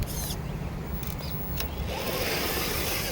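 The electric motor of a GMADE GS02F RC crawler runs in high gear with a loud, steady whirring drone, close by, rising slightly toward the end.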